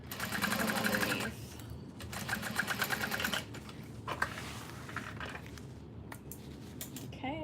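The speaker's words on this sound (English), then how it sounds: "we're going to repeat that top stitching" A sewing machine top stitching fabric, running in loud rapid bursts with brief pauses between runs, plus a few light clinks, heard close up with no talking.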